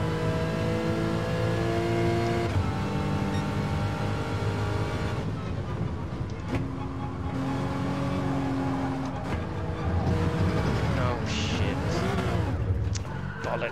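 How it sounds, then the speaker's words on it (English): Race car engine revving in the GT video game, a steady loud droning motor with shifting pitch, gear changes and occasional tire squeal throughout. "Engine is a tad loud."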